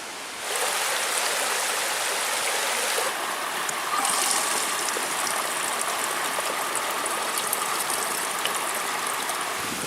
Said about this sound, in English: I'm going to fill up with some water.